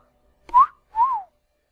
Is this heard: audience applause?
no